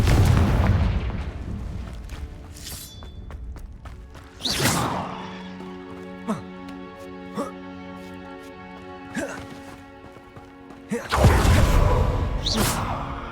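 Confringo fire spells explode in the Hogwarts Legacy game, with several heavy booming blasts and whooshes and sharp impact cracks in between, loud and close, while a voice speaks over parts of it.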